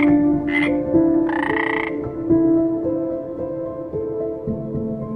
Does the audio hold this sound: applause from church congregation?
no